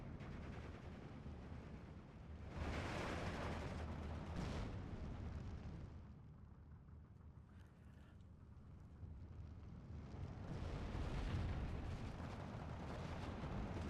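Mortar and artillery fire in the war game Steel Division 2, low rumbling blasts and booms that swell and fade in waves, fairly faint and far away, with no voices.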